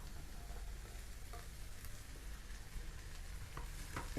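Green peas go into a pan of sautéing vegetables for cutlets, with a constant close frying sizzle and faint scattered clicks of stirring throughout.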